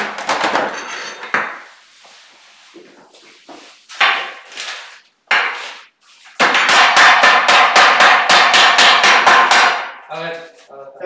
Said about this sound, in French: Ah, peut-être avec un marteau.